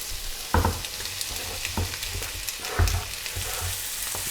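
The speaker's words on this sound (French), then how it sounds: "On va mettre un petit filet d'huile. On ajoute le beurre. Et on va tout de suite mettre les oignons." Onions dropped into hot oil and butter in a pan, with a strong steady sizzle and several sharp crackling bursts and scraping stirs, loud and close.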